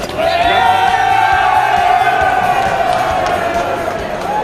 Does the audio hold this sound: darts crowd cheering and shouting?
yes